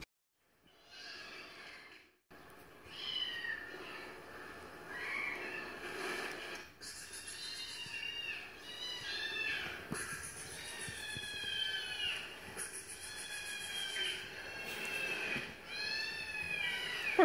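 Adult house cats meowing repeatedly, several rising and falling calls close by over a quiet room, with short gaps between them.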